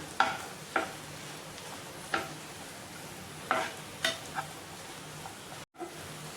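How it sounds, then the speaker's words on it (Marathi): Carrots and beans sautéing in oil, with a quiet continuous sizzle under a few sharp clinks and scrapes of a spoon stirring the pan, near but soft, with no one speaking. "गाजर आणि बीन्स छान असं तेलामध्ये परतून घ्यायचं"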